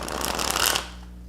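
A deck of Spiral Tarot cards with stiff cardstock being shuffled up close, a dense riffling flutter lasting under a second before it stops.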